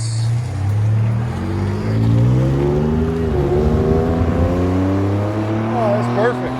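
A Ford F-150 EcoBoost V6 pickup with an aftermarket muffler revs its exhaust, a loud, deep droning tone that rises and falls through several throttle blips, then settles back to a steady idle rumble.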